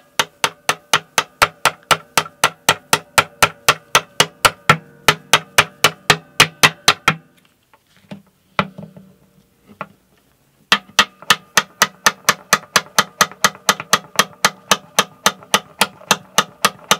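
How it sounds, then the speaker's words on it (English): A tiny hammer taps part of a classical Spanish guitar during an intonation fix, giving sharp, evenly spaced metallic ticks in a steady rhythm, close and loud. The taps stop for a few seconds with a faint rustle, then resume. "Would it be wrong to hit it with a tiny hammer?"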